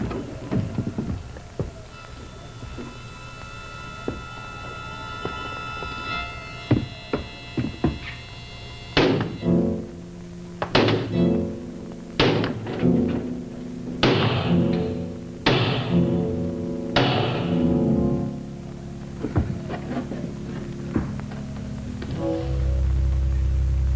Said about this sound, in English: Well, hammer on the lock.